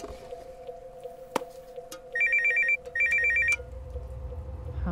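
A burner phone rings in two bright electronic bursts over a low steady hum, each ring lasting under a second with a short gap between them.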